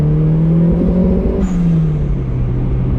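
A budget turbocharged Mazda Miata engine on 14 psi drones loud and steady under high boost, then the note drops and sags as it breaks up, with no talking.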